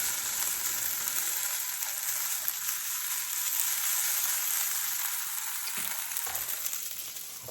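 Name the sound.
bacon frying in a pan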